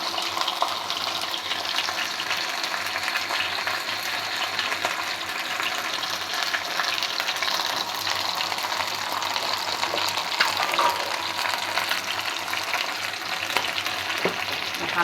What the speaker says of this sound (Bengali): আমি ভেজে নিচ্ছি, একটু দূরের থেকে ভাজছি